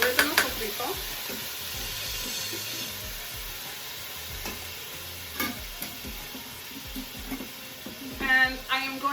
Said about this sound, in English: So I'm adding about 3 tablespoons of the original sofrito.